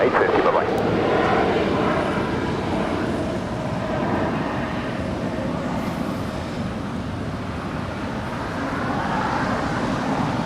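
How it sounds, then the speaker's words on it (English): A Southwest Airlines Boeing 737-800 arriving from Denver at Los Angeles airport gives a steady, broad jet roar throughout, with traffic rumble mixed in and airport radio chatter in the background. "That is Southwest Airlines, flight 2836, coming in from Denver, Colorado. It's a 737-800."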